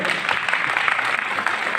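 A crowd at a devotional storytelling gathering about Lord Ram's exile claps together in a dense, continuous burst of applause, loud and close, sustained for a couple of seconds.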